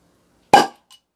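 A bottle of breakfast wheat beer is opened with a single sharp, loud pop up close, followed by a faint clink a moment later.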